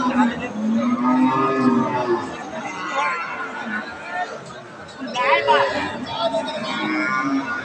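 A Red Friesian dairy cow at a cattle market moos several times amid a busy crowd, with nearby people talking over and between the calls.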